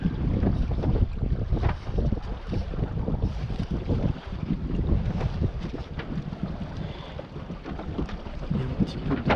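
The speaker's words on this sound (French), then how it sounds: "Il y a un petit peu de vent." Wind gusting over a Mini 888 offshore sailboat, buffeting the microphone with rumbling noise mixed with sloshing water against the hull, steady and close throughout.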